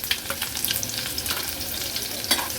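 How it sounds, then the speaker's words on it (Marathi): Chopped onion frying in oil with garlic for a Marathi seafood thali, a close, busy sizzle with scraping stir strokes and small spitting pops, no voices. "कांदा पण तेलामध्ये शिजवून घ्यायचा आहे"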